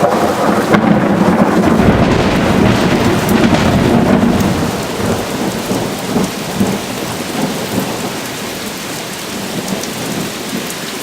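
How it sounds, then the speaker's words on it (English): A thunderstorm with steady heavy rain, heard from a front porch, with a loud rolling rumble of thunder early on that fades as the rain keeps pattering evenly on surfaces throughout. "I just love it when there's not a thunderstorm going on like there is right now."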